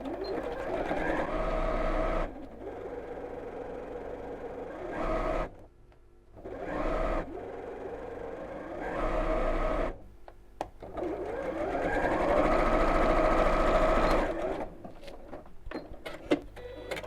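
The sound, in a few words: sewing machine stitching a child's backpack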